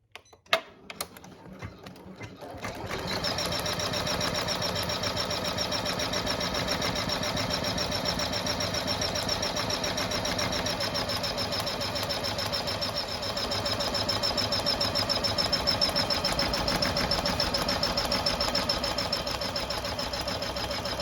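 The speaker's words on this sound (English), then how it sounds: "With your hoop back on the machine, stitch out the last step of the stitch map." An embroidery machine stitches out the final step of a card holder design, a fast, steady mechanical chatter that starts after a few seconds of handling clicks and runs on without talk.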